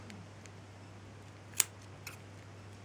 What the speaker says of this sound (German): Nehmen wir eine Schere.